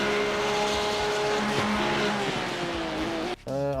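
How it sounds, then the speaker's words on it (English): GT3 race car engine at full revs, a loud steady roar with shifting harmonic pitch and an uneven, stuttering character, briefly cutting out near the end before the tone returns. "the engine does sound like it goes a bit weird there"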